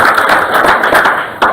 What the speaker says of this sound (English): if you would hold your applause